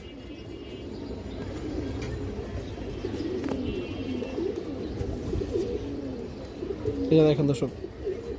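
Pigeons at a loft coo in low, repeated murmurs under someone talking, with a brief louder flutter of activity near the end.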